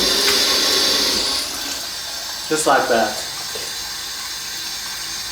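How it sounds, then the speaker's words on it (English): Cold tap water running steadily while mushroom pieces are rinsed, a continuous hiss that fades partway, then splashing and handling as the pieces are moved, with someone briefly talking. "just gonna properly clean each piece of mushroom first. Some cold water,"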